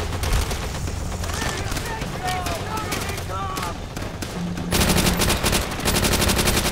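A Tommy gun fires continuous rapid bursts in Call of Duty World at War, loud and close, with a voice speaking faintly underneath.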